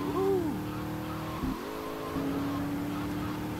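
A car in the video game GTA Vice City drives under a steady droning engine, with a brief rising-and-falling tire squeal near the start and another short skid partway through.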